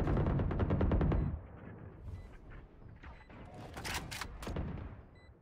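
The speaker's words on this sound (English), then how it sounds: "There's a turret on me still." A turret in the game Valorant fires at the player with a rapid burst of loud, close automatic shots. Scattered clanks and softer gunfire follow.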